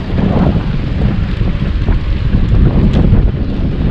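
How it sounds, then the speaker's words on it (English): Strong wind gusts buffeting the microphone while bikepacking through the Netherlands and Belgium during a storm, a loud continuous low roar that swells and eases without pause. "Felt the wind then."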